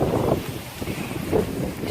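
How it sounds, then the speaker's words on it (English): Gusty wind at a beach buffets a phone microphone, producing loud, rumbling low-frequency noise that swells and dips throughout, with no speech. "The wind is shaking my phone."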